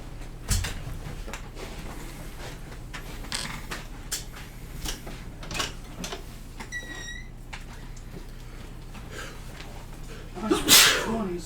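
A single sharp sneeze bursts out near the end of a tabletop dice-game session, standing clearly above quiet room noise and scattered clicks and creaks, with soft voices nearby.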